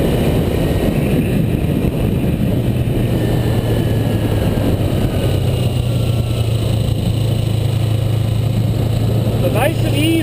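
A Kawasaki Ninja motorcycle's engine runs steadily while riding, a constant loud drone with heavy wind rush, close and continuous, a brief higher whine rising near the end.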